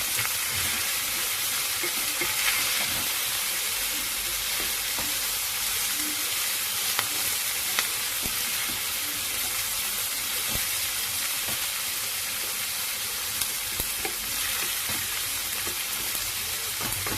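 Beef stir fry tenderized with baking powder being stirred in a pan, a steady close sizzle and hiss with light scraping of the spatula, continuous and fairly loud with no talking.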